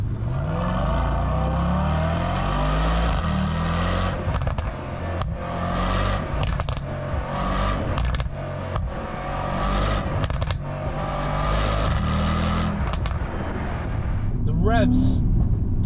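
A Mercedes-AMG E63 V8 rumbles loudly and continuously, with revving swells and crackling exhaust pops breaking through, plus a rising whine near the end.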